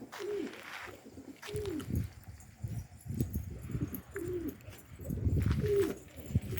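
Pigeons coo repeatedly up close ahead of release, rounded rising-falling calls recurring every second or so, with shuffling and wing or foot noises around them.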